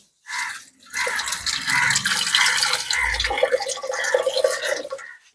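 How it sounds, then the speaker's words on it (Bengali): Water poured from a container onto lentils with turmeric in a pressure cooker, a steady close splashing and trickling pour lasting several seconds with no talk. "এইবার আমি একটু জল দিয়ে দেবো"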